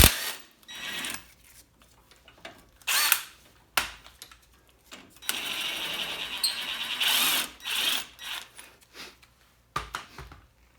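A power tool undoes a 19mm suspension bolt on a Toyota MR2 SW20. It comes in several loud, whirring bursts of a second or two each, separated by short pauses and clanks.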